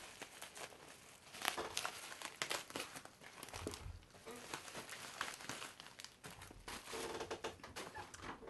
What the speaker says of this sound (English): Excuse the plastic noises